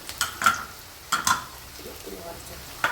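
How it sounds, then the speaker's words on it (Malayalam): Thin-sliced green chillies and ginger frying in a pan on low flame, soft sizzling broken by a few spoon stirs and clinks, close and brief. "ഇപ്പം നമ്മൾ ഫ്ലെയിം ഒന്ന് സിമ്മിൽ വെച്ച് മൂപ്പിച്ചെടുക്കണം"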